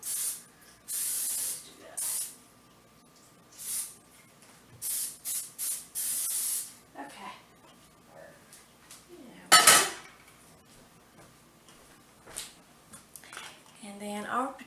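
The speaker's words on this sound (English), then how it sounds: "Now I'm going to go ahead and grease my pan, spray my pan" Several short hissing bursts of cooking spray greasing a 9 by 13 casserole dish, some longer, with a clink of dishware in between and a louder clatter near the middle.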